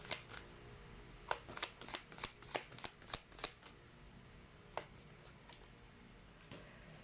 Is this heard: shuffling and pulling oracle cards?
yes